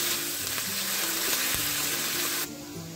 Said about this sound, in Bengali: এই মাছ ভাজার তেলের মধ্যে দিয়ে দিচ্ছি 1 চামচ গোটা সাদা জিরে, দিয়ে দিচ্ছি বাটা পেঁয়াজ।